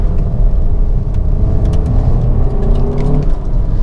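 A 2019 Audi Q3 in dynamic mode with paddle-shift gear changes, its engine droning loudly from inside the cabin as revs rise and fall between shifts, with a steady low rumble.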